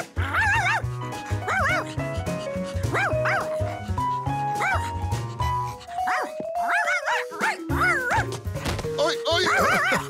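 A Dalmatian in a cartoon gives a run of yips and barks with whimpering in between. The sounds come in quick, rhythmic bursts over a music bed, close and loud.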